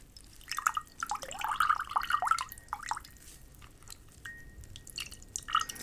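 Tea drips and trickles off a facial sponge as it is dampened, a quiet, close patter of small irregular drops and wet squelches in an otherwise still room.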